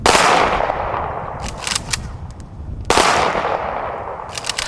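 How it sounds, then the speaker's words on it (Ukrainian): A military salute volley of loud gunshots cracks out at a Chernobyl memorial ceremony, then echoes and rolls away, followed by a second burst of firing a couple of seconds later. "Пролунав військовий салют."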